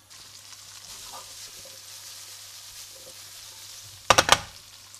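Bell peppers frying in a pan make a soft, steady sizzle, then near the end a brief burst of louder crackling and stirring stands out.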